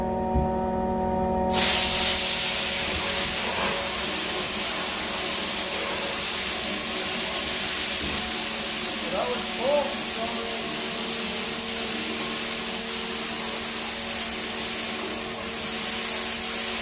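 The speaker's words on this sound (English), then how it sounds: "let's spray down that pickup, and we'll try and thaw the pickup" A water spray hisses steadily onto the frozen pickup of a concrete pump truck in cold weather, a loud broadband rush that starts abruptly and runs on with engine hum beneath.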